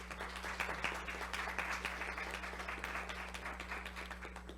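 An audience at a panel discussion on the challenges of the pandemic gives faint, steady applause over a low electrical hum.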